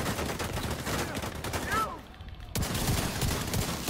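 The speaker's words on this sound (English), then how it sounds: "Yep, they're shooting at me." Gunfire crackles in the video game Exarchs: Long Division Heroes as a dense, fairly close volley of shots, broken by a brief lull before the firing resumes, with players talking over it.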